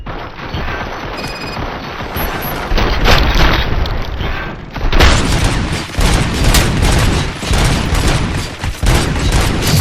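Heavy gunfire fills a RoboCop: Rogue City shootout, with rapid machine-gun bursts and booming impacts layered thickly and continuously, loud and close, with no speech.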